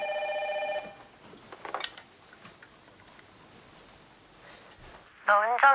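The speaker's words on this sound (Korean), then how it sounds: "갑자기 집 전화벨이 막 시끄럽게 울렸어요" Home telephone bell ringing loudly in short electronic bursts at the start and again at the end, separated by a quiet stretch of faint ticking and soft rustle.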